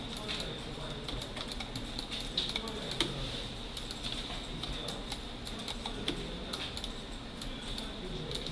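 A computer mouse clicks quietly and repeatedly during click-and-drag digital drawing, the small dry taps spaced irregularly over a faint background hiss, with no talking.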